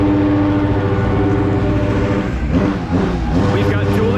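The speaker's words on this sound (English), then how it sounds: "We've got dueling panic revs." Several Honda CR motocross bikes rev hard at once in a pro motocross pit, a dense, loud, steady engine roar with overlapping throttle blips near the middle, and voices mixed in underneath.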